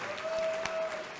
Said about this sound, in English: let's give Reverend Sharpton a round of applause for what he has built.